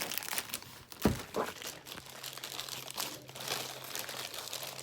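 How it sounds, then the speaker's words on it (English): Plastic packaging crinkles and rustles as a new Bluetooth-capable sound card is unwrapped by hand, with a sharper crunch about a second in and softer crackling continuing nearby, no talking. "Let me take it out from the plastic."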